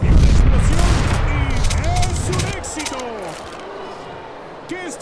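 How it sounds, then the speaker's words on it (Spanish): Video game gunfire pops and booms under excited commentary during an esports Major qualifier match, a burst of shots early on thinning into scattered reports later. "Vemos algunos disparos. Las balas pasan a solo unos centímetros de los jugadores."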